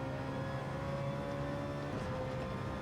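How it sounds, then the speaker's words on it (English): Rotary-engined race car in Gran Turismo 7 winds up through the revs, a steady droning engine note with rising harmonics under faint background game sound, no speech. "As we hear the rotary engine of Cookabun's car there winding it up."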